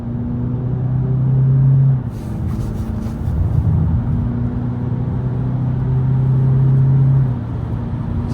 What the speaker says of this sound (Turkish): Bastım gaza. Dip gaz.